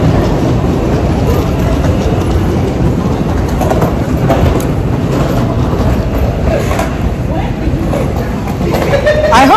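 A train in New York rumbles loudly and continuously with rattling clatter and brief squeals, heard close up amid a busy, noisy setting.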